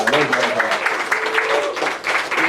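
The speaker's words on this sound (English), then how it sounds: "Give a round of applause for all the comics." Audience applause for the comedians at a comedy show, a steady wash of clapping heard close and loud throughout, with a few voices mixed in.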